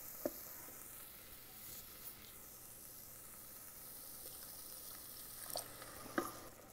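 Faint, steady sizzling hiss of water hitting spices frying with salt in an Instant Pot, with a few soft clicks and taps over the quiet simmer.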